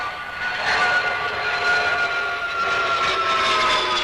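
A Sud Aviation Caravelle airliner passing at the 1963 Paris Air Show: a steady, loud jet whine with sustained high tones over broadband roar, holding level throughout.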